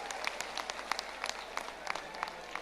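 Crowd applause at a large outdoor religious gathering on a historic Dussehra ground, heard as faint, distant, scattered clapping with sharp claps standing out irregularly.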